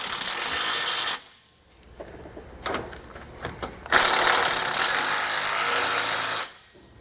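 A ratchet wrench tightens factory hardware on a Roadmaster front anti-sway bar of a 2018 Coachmen motorhome, giving rapid clicking bursts at close range, two long runs separated by a shorter, quieter stretch of clicks.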